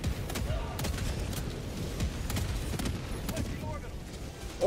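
An orbital barrage in Helldivers 2 rumbles as a dense, continuous wash of overlapping blasts and crackling impacts, loud and close throughout with no clear gaps between hits.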